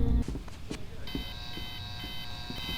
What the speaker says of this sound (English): all sorts of alarms are going off